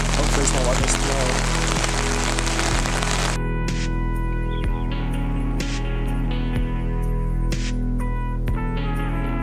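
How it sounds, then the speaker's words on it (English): Heavy rain pounds steadily on tents at a wild camp on Dartmoor, a loud, constant hiss close by with scattered drips and patters striking the fabric throughout. "now the rain is starting to pick up. The rain is starting to get heavy."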